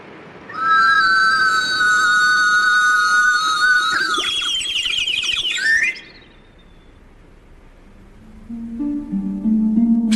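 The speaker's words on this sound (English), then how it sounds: "Just a cup attached to a warbling whistle being lowered into a tank of water." A warbling whistle fixed to a cup is lowered into a tank of water, giving loud, steady birdlike trills that wobble and break up, then a quieter pause before higher whistled tones return.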